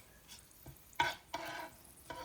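Cumin seeds fry in a pan over a very low flame, with a few scraping stirs over a faint, quiet sizzle and no voices.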